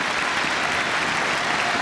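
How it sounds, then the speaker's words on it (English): A badminton arena crowd at the 2006 All England Championships gives steady, loud, dense applause after Lin Dan beats Kenneth Jonassen to reach the semi-final. The clapping is sustained and even throughout. "Both players applaud the crowd, thank them for their support."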